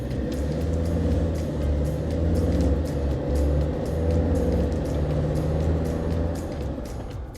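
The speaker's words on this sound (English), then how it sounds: "That's just seamless shifting from the 8-speed." A Land Rover Discovery 2 TD5 with an 8-speed automatic gearbox drives with a steady low diesel engine rumble and road noise inside the cabin, the tone shifting subtly as it changes gear.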